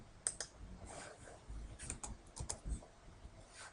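Several quick, faint key clicks tapped on a computer keyboard while entering a short function name into a spreadsheet search box, close and quiet with no talk.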